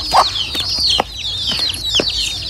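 A chicken with its chick clucks close by in a run of short, high, repeated calls and peeps, several quick bursts over a low background, with no speech.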